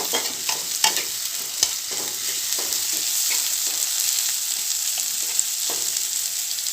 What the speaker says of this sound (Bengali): আগে লঙ্কাটা দিয়ে একটু পেঁয়াজটার সাথে আগে ভেজে নিই